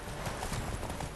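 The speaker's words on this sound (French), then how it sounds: "ça sent la course de chevaux" Horse hooves gallop in a steady clip-clop rhythm during a horse race in The Witcher 3, with faint whinnies over a continuous game soundscape.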